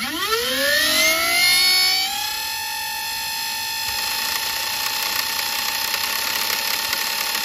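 Twin flywheel motors of a homemade Nerf blaster turret spin up to over 30,000 RPM, a rising whine that climbs quickly in pitch and then holds as a steady, loud, close electric hum.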